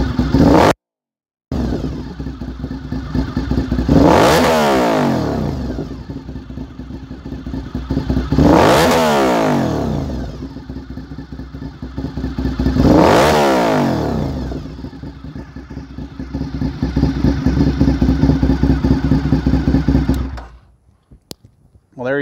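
A 2003 Honda RC51 sport motorcycle engine starts with a brief cranking burst, then idles with a loud clattery rumble, interrupted by three strong revs that rise and fall, before cutting off near the end.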